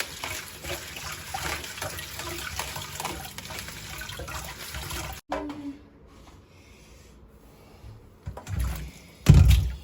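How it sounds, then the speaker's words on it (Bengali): Small shrimp and fish are washed in water, with splashing and running water for about five seconds, then quieter handling and a louder splash near the end. "এবার এই মাছগুলো ধুয়ে নেবো"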